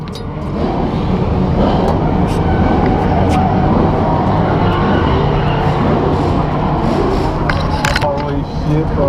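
A Nissan S15 drift car drives with a loud, continuous engine roar and road noise heard from inside, with occasional sharp knocks and people talking over it.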